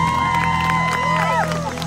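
Audience at a live Yemeni-style pop concert cheers and claps for the keyboard player, a dense crowd roar with whoops layered over sustained band music and singing for a couple of seconds.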